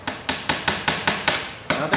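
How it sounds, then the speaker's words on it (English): Toy hammer hammering in a children's simple machines activity: seven sharp, evenly spaced knocks at a steady quick rhythm, close and loud with nothing else heard. "And I think they'll have fun hammering."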